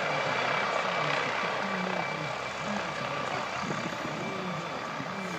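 A helicopter roars steadily nearby, its engine drone and thudding rotor filling the air at a constant loud level.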